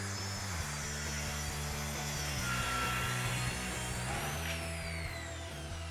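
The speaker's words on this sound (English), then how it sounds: "Position the rail according to the setting on the angle unit and saw." A Festool ATF55 plunge track saw cuts along its guide rail, giving a steady, continuous whirring drone for the whole stretch, with background music playing alongside.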